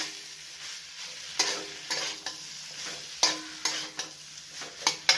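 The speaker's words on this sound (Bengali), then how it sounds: "তো সবজি মশলা দিয়ে আবারও নাড়াচাড়া করে দিলাম" Vegetables with vegetable masala are stirred in a pan for a chaat, with a series of distinct scraping strokes spaced a second or so apart over a faint, low sizzle.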